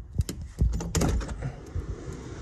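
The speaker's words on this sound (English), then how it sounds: "This door opens up too." A condo unit door in a Fort Walton Beach beachfront building is opened, giving a quick series of close clicks and knocks followed by a heavier thunk and some rattling, then a quieter settling tail.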